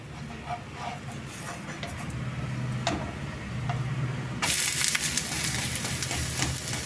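A vegetable oothappam frying in a pan, a soft steady sizzle with light ticking crackles that swells louder and brighter partway through, close up with no speech.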